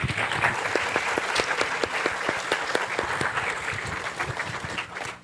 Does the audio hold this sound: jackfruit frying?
no